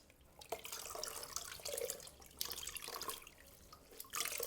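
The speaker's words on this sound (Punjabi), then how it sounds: "ਆਪਾਂ ਇਹਨੂੰ ਸਾਫ਼ ਪਾਣੀ 'ਚ ਕੱਢ ਲੈਣਾ ਚੰਗੀ ਤਰ੍ਹਾਂ" Water splashes and sloshes as a freshly dyed tie-dye dupatta is rinsed in clean water, in uneven bursts of swishing and dripping, close by and fairly quiet.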